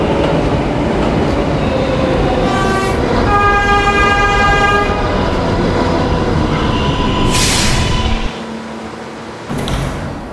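An R143 subway train on the R local line rumbles loudly along the track, its motors whining in a rising tone, then brakes hiss and the roar drops sharply near the end.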